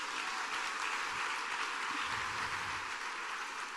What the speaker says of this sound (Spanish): ¿Cuántos ahora sí le dan un aplauso bien fuerte al Señor Jesucristo?